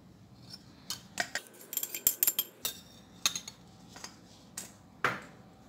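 Spoon clinking and scraping against a bowl while sugar and an egg are stirred into sweet bread dough, a series of sharp, close metallic taps and scrapes at an irregular rhythm in a quiet room.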